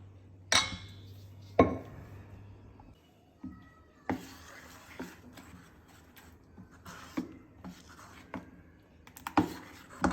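Ground dosa batter being stirred in a bowl, with scraping and clinking of a spoon against the bowl in irregular bursts, close and moderately loud, with no talk.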